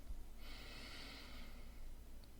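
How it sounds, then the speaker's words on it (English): A single slow, deep inhale is drawn through the nose, close and soft, a breathy airy rush lasting about a second against quiet room tone. "breathing in"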